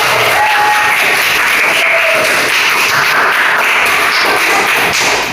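A classroom of students claps hands together on a teacher's cue, a dense, steady patter of many hands sustained throughout at close range, with no talking over it.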